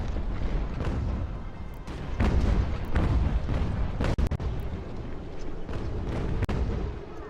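Cannon and mortar fire during a battle in Ultimate General: American Revolution, a French invasion scenario, giving dense, continuous low booms and rumbling blasts with sharper reports near the four-second mark, loud throughout and no speech.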